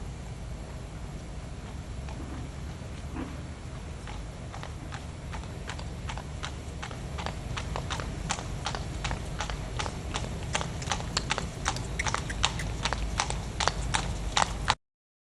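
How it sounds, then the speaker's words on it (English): Hooves of a lame horse, sore in a foreleg and the right hind, clop in a steady, regular walking rhythm on a hard surface. Each strike is crisp and distinct, and the beats grow more pronounced toward the end. "Here we see the horse moving away from us once more"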